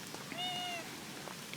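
A cat gives a single short, clear meow at moderate distance outdoors in a yard, rising then falling, with faint rustling background and no talk over it.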